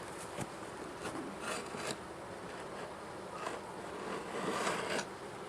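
Honey bees hum and buzz around an open hive during a spring inspection, a soft, continuous drone with occasional louder passes of individual bees close by.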